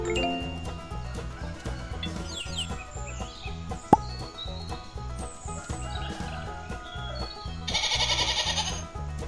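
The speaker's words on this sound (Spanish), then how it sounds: "Oveja." Several sheep bleats ring out against a rhythmic musical backing, with a bright sound effect flaring near the end.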